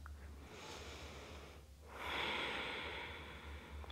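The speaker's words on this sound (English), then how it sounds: "Breathe in and breathe out." A person lying on the floor during a lower-back stretching exercise takes a slow breath in, then a longer, louder breath out, close to the microphone, with no talk.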